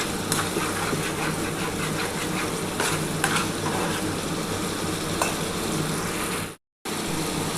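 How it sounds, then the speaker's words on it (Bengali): Spice paste with whole garlic cloves stir-fried for katla fish curry: a loud, continuous sizzle with scraping spatula strokes over a steady low hum, close by, with a momentary dropout near the end. "খুব ভালোভাবে কিন্তু মশলাটা কষানো হয়ে গেছে"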